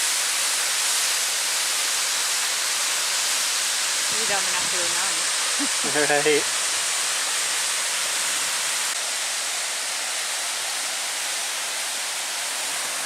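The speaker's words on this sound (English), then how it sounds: "This will be Chapel Falls. It's one of my favorite waterfalls in this area." Chapel Falls at Pictured Rocks, Michigan, pours down a rocky slide as a steady, loud broadband rush filling the whole span, with brief talk partway through.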